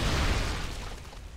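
Upgraded firebats in StarCraft 2 set off a small explosion: a loud, deep burst that thumps at once and fades over about a second into a rumbling tail.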